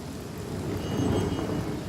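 Rain falling in the video game Divinity: Original Sin, a steady, dense hiss of downpour with a low rumble that swells slightly midway, heard alone.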